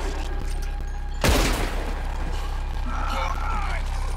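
Gunfire breaks out in a Red Dead Redemption shootout as shots aimed at a rope crack sharply once, followed by a quieter rumble of the fight and background game noise.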